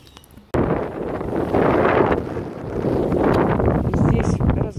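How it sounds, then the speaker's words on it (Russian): A sudden gust of wind bursts in outdoors at a junk dump after a quiet moment, then keeps roaring and buffeting the microphone, loud and steady. "Смотрите, ветер дунул, все полетело."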